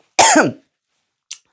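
A single loud, raspy cough up close, followed by silence and a faint short afterburst.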